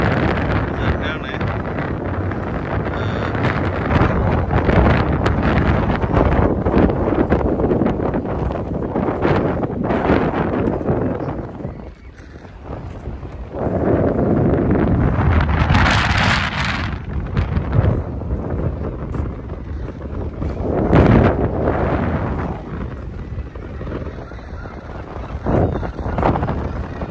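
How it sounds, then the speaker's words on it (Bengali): Strong wind buffets the microphone on Camber Sands beach in England, a loud roaring rush that surges and briefly drops before returning, with surf-like noise beneath and a voice speaking at times. "Today is very very Windy."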